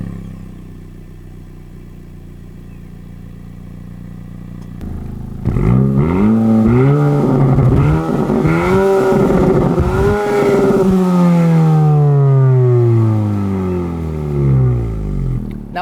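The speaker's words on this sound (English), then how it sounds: "I'll let you guys hear what the engine sounds like real quick." A 2020 Honda Civic Si engine revving through its center exhaust outlet: a quiet idle, then loud, close blips and a long rev that climbs in pitch and sweeps back down.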